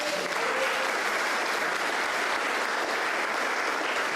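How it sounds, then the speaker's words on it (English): A crowd at a launch finale event gives a steady round of applause, dense clapping at moderate distance that holds evenly throughout with no talking over it. "that's a grudging round of applause"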